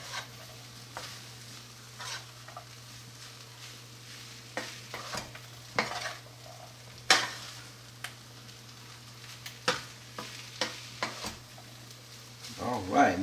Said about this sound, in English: my temperature is down to a low, so it doesn't scorch the fried rice